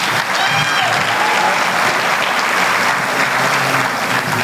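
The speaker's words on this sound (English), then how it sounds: "Round of applause for Chris." A dense, loud wave of clapping from an awards ceremony audience, steady and sustained throughout with a faint crowd murmur beneath.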